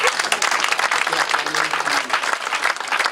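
A church congregation applauds continuously, dense and fairly loud clapping filling the room with a hum of crowd voices underneath.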